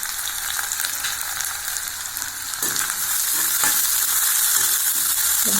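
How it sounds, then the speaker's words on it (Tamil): Onions sautéing in a pan for chicken masala give a steady, close frying sizzle with stirring scrapes that grows a little louder midway, with no talk over it. "நல்லா வதக்கிடலாம்."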